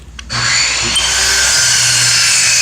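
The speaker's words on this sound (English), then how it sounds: "sorry for the saw back there" A power saw cuts through a rear control arm bushing on a 2002 Chevy Impala. After a brief start it roars into a loud, steady, close whine that holds to the end.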